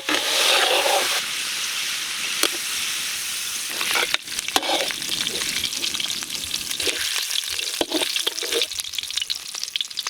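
Mutton fat frying in oil for a lemon rice dish, a steady loud sizzle with bubbling crackle throughout, occasional stirring scrapes and brief dips in the hiss.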